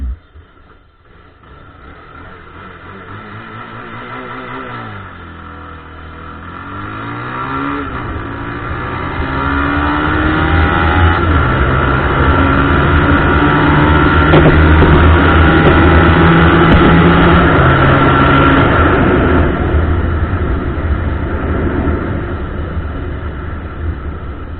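A Bajaj Pulsar 220 motorcycle fitted with a racing CDI accelerates hard through the gears, its engine note climbing, dipping at shifts and rising again, loud and close for the full run with no talk.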